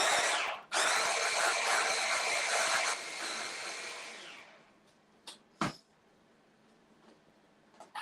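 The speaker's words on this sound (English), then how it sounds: "Just blitz it a little bit more." A food processor whirs loudly for a few seconds, blitzing a thick vegan BBQ mix, then winds down into quiet with a couple of scraping knocks as the sides are cleared.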